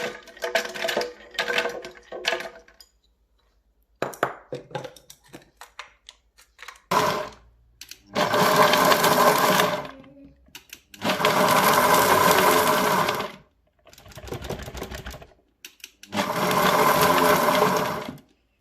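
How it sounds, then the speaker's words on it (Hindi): A kitchen mixer grinder pulses cashews into powder: short loud whirring bursts of several seconds each, separated by pauses, with some clatter and handling noises at the start. "इस तरह से मैंने एक बार मिक्सर को चला के बीच 5-5, 6-6 सेकंड तक ही चलाया एक बार में, और ये इसका पाउडर बना लिया।"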